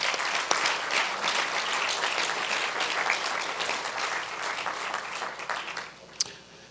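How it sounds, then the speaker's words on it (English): A crowd claps steadily at the TriMet FX2-Division bus line grand opening ceremony outdoors, dense sustained applause that fades toward the end with one sharp knock. "Let's give a big round of applause there."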